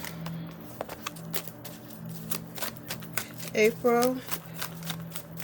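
Cards are shuffled with a quick series of soft riffling clicks and taps, while a voice murmurs briefly in the middle.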